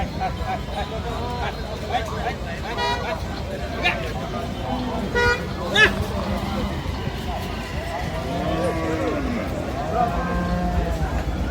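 A Friesian dairy cow at a cattle market moos several times in drawn-out calls amid a busy crowd, with people talking, occasional horn toots and hoof clatter around it.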